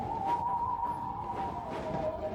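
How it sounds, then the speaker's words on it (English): A ghostly whistling and wailing tone hangs steady and eerie over a low rumbling background, wavering slightly in pitch for a couple of seconds, loud and close with no other sounds. "the whistling and wailing was right behind her"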